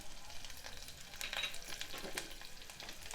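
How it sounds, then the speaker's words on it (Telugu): Sliced onions and drumstick leaves frying together in a pan for a Telangana-style curry, a steady close sizzle with crackling pops and spatula scrapes, no voices. "కాబట్టి నేను ఉల్లిపాయలతో పాటు మునగాకు కూడా వేయించుతాను."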